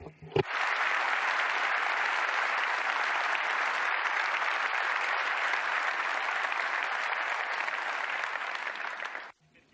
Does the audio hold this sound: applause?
yes